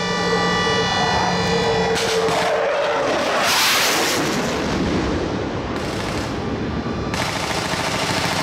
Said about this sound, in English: A theatrical depiction of the events that took place in 1942 was staged, complete with air raid sirens, gun and cannon fire